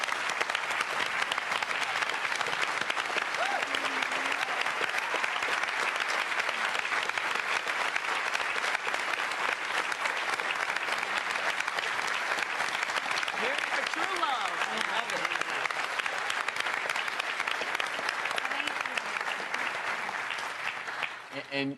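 A studio audience at a television talk show stands and applauds a veteran receiving a donated wheelchair, with steady, dense clapping filling the room for about twenty seconds before tapering slightly at the end.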